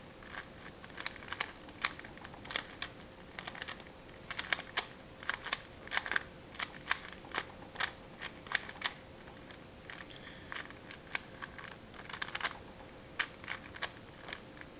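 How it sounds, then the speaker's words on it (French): A 3x3x3 Rubik's cube being scrambled gives off quick plastic clicks and clacks in irregular bursts, close and fairly quiet, with no talking. "on mélange le cube dans tous les sens"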